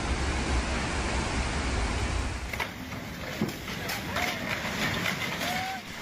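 Storm sea waves surge over the coast in Sochi during a violent storm, a loud broadband wash of crashing water that eases after a couple of seconds into a lower, steady rushing with faint scattered sounds.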